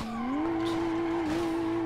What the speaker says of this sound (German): Jetzt driften wir.